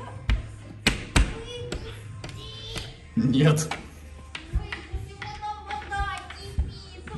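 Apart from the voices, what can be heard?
banging on a door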